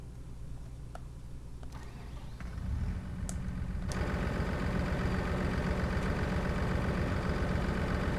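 A steady engine idles close by, a low continuous rumble that grows fuller after a few seconds and holds evenly to the end.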